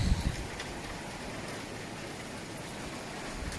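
Steady, dense hiss of heavy typhoon rain pouring down during Typhoon Ulysses in the Philippines, continuous and fairly loud throughout, with a brief low rumble at the start and no voices.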